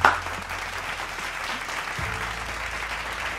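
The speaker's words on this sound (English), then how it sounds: "A round of applause." Round of applause from a crowd, steady dense clapping that carries on throughout at moderate loudness without voices.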